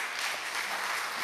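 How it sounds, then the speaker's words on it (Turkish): Audience applause at a live talk event: dense, steady clapping from many hands at a constant level for the whole moment, with no voices over it. "sağ olun alkışladınız"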